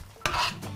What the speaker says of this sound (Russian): Размешиваем орешки.